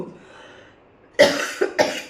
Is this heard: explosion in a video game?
no